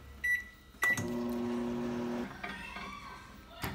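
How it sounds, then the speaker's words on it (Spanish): A microwave oven hums steadily for about a second and a half while heating a Snickers bar on a plate, framed by a door click and a sharp beep before and after, with faint kitchen noise in between. "Voy a poner mi sneaker aquí en este plato y lo voy a poner en el microondas"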